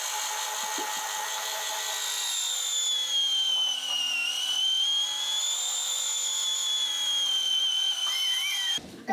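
An electric tomato strainer purees homegrown tomatoes with a loud, steady motor whine whose pitch rises and falls slightly, running continuously before stopping abruptly near the end.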